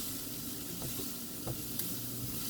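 Noodles and vegetables for sweet habanero yakisoba sauté in a pan with a steady, soft sizzle and a few faint scrapes of stirring, and no one talks.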